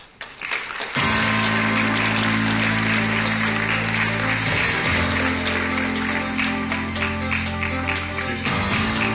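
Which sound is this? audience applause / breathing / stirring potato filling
audience applause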